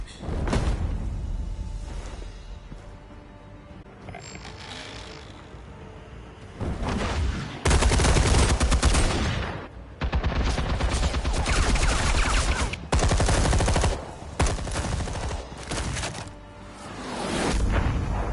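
Gunfire in Batman: The Telltale Series, a run of loud bursting shots and booms with whooshes, dense and continuous over most of the stretch with brief lulls between volleys.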